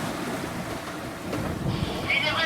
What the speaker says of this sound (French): on arrive sur Groix en surfant sur les vagues